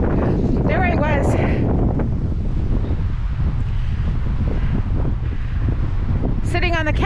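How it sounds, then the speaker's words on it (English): Strong wind gusts on the Keweenaw Bay waterfront in February roar and buffet the microphone continuously, loud and close, with a few short vocal sounds near the start and end. "there's wind gusts about up to 20 miles an hour"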